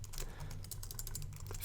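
Keys clatter on a computer keyboard while code is entered in Xcode, a quick, steady run of light clicks close by and fairly quiet, with no voice.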